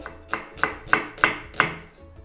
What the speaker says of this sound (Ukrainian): Все нарізаємо дрібним кубіком.